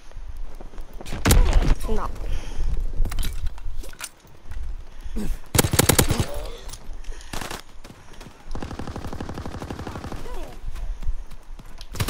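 Loud video game gunfire from Black Ops 3 comes in repeated bursts of rapid shots and fusillades, close and dominant, with a voice talking over parts of it.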